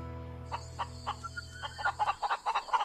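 A rooster crows on a farm: a low steady hum gives way to a rising series of loud, rapid, harsh call bursts near the mic, growing stronger toward the end with no talking.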